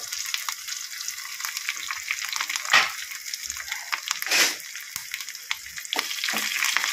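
Dried red chillies, curry leaves and asafoetida fry in hot oil as a tempering for South Indian pappu charu, giving a steady close crackling sizzle with a few louder spitting bursts and stirring.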